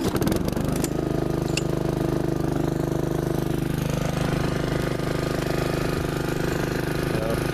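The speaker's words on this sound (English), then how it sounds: "let me mow with it here, you know, show you what it sounds like. It is a pretty quiet mower too." A Honda HRX217HYA self-propelled walk-behind lawn mower runs steadily close by, its engine holding a constant low drone with a smooth, even hum and no talking over it.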